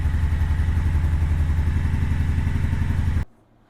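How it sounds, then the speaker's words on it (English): A cold Honda Shadow Sabre 1100 motorcycle idles close by while warming up, its V-twin throbbing loudly and steadily before cutting off abruptly into near silence. "I'm going to go ahead and let the engine run a little bit, let it warm up"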